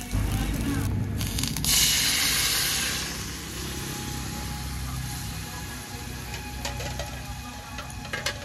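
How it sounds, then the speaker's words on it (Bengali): A loud burst of hissing spray as water hits a hot pan of fried radish and puti fish, then settling into a steady sizzle that continues to the end. "এবার দিয়ে দেব পরিমাণ মতো জল"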